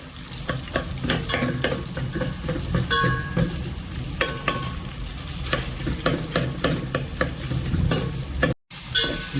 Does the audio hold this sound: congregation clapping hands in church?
no